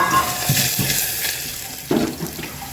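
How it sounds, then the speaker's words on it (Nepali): Potatoes fry in a pan with crushed ginger, timur pepper and chili for a karkalo curry, giving a steady close sizzle and hiss broken by a couple of louder bursts as the pan is stirred. "आलु फ्राई गरिरहेको छौँ"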